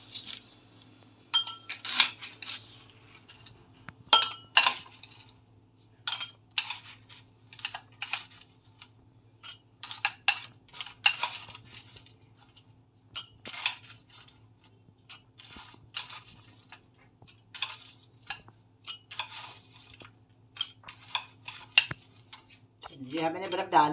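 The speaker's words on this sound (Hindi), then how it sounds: "अब मैं डालूंगी गिलासों में बर्फ़।" Ice cubes drop into glasses for a mango mint margarita, making a series of sharp, bright clinks and clatters in irregular bursts against a low steady hum, with no talking.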